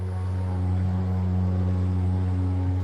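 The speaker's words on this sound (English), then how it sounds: "Come dey hear like say aeroplane wan land for my compound." A heavy, steady drone like a low-flying aeroplane hangs over a home compound. The loud, unbroken engine hum carries strong low harmonics and never changes pitch or level throughout.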